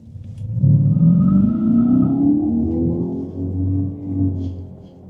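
A 2025 Dodge Charger Daytona EV Stage 2 launches in drag mode with power shot, its electric drivetrain giving a loud rising whine and low rumble that climbs steadily over several seconds, close and continuous.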